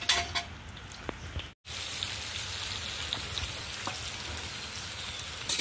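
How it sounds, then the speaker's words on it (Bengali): Potatoes fry in oil in a wok, a steady close sizzle with fine crackling that stops for a moment before resuming, alone without talk. "এবার আমি কড়াই তেল দিয়ে ওর মধ্যে দিয়ে দেবো আলুটা।"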